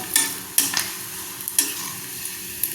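Dried fish (karuvadu) frying in hot oil, a soft steady sizzle broken by a few sharp close clinks and scrapes of a utensil against the pan.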